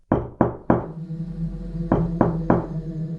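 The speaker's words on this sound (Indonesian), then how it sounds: "suara ketukan kembali terdengar" Three sharp knocks on a door, a short pause, then three more firm knocks, close and loud.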